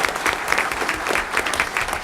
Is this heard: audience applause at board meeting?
yes